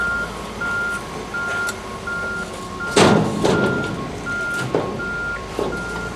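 A truck backing up at a junkyard gives steady, evenly spaced reversing beeps, with a few bangs and clunks of loading mixed in close by.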